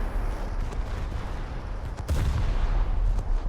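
Naval gunfire in War Thunder rumbles as steady, dense low booms, with a heavier blast about two seconds in that leaves the barrage louder afterward.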